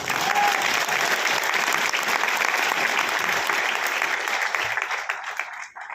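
An audience at a seminar breaks into dense, sustained applause that holds steady for several seconds and then tapers off sharply at the end.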